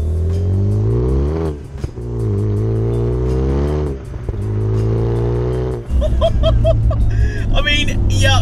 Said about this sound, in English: turbocharged engine.